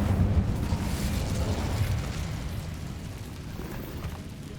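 Incendio fire spell from the video game Hogwarts Legacy, a rushing fiery whoosh with a deep rumbling burst that gradually fades over a few seconds.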